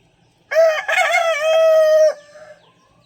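A single loud, close rooster crow in a chicken coop, one drawn-out call of about a second and a half that ends abruptly, with no other sound around it.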